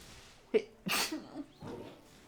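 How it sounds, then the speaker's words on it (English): A single sharp sneeze from a person with dust in the nose, close and loud, followed by a brief breathy exhale and a quieter trailing vocal sound. "Pardon my sneeze, but there was a little bit of dust or something in my nose."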